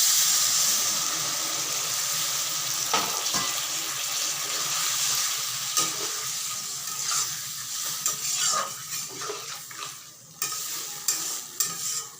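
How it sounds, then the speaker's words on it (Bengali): Water is poured into a pan of simmering potato and paneer curry, giving a steady hissing sizzle that settles into bubbling, with spoon stirs and scrapes toward the end. "আমি এখন জল দিয়ে দিচ্ছি"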